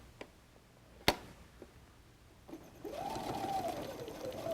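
A sewing machine stitching a messenger bag, with a couple of sharp clicks and taps as the work is set, then the motor whirring up into a steady run of stitching that hums on to the end, fairly quiet and close.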